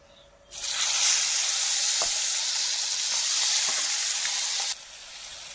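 Catfish (magur) hitting hot oil bursts into a loud, steady sizzle that holds for about four seconds, with a few faint clicks from stirring, then cuts off abruptly.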